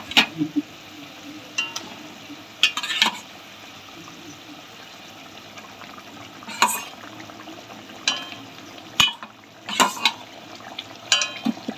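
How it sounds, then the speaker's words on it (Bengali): Fried pointed gourd pieces being stirred into a pot of boiling curry, with a low bubbling, sizzling bed under intermittent sharp metal clinks and scrapes of a ladle against the pot, close and with no talking. "নেড়ে চেড়ে দেবো, সবগুলো ডুবে যায় ঝোলের মধ্যে।"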